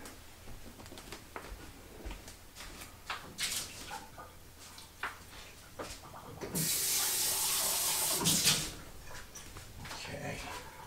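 Hot water from a Keurig K Slim brewer test, about 170 degrees, is poured out into a sink, a loud gushing splash lasting about two seconds after scattered clinks and handling sounds, with a person speaking nearby.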